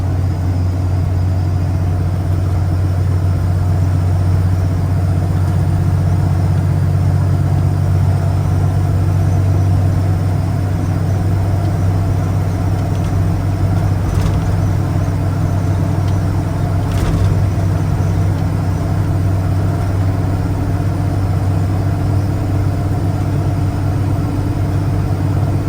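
A car engine cruising in third gear, a steady loud drone with a constant low hum that holds evenly throughout, without any talk.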